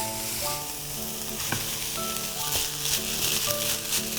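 Cooled cooked rice sizzles and fries steadily in a hot pan while being stir-fried for fried rice, with a continuous loud crackle and occasional scraping and stirring knocks throughout.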